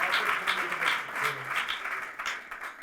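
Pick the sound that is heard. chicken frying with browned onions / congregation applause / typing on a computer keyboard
congregation applause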